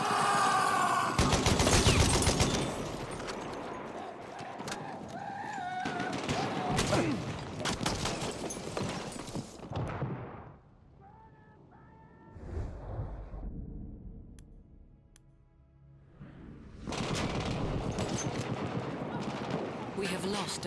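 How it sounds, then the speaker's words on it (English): Rapid machine-gun bursts and dense gunfire rattle loudly in a Battlefield 1 battle, heavy volleys at the start, a quieter gap with mechanical clicks midway, then another sustained burst at the end. "Spotted a machine gun!"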